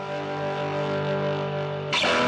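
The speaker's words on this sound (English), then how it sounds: "I recorded through a Proco Rat, the best distortion pedal, into, I just have this tiny Vox amp." An electric guitar played through a Proco Rat distortion pedal into a tiny 5-watt Vox amp rings out as a thick, sustained fuzzy chord, then a harsh, brighter strum crashes in near the end.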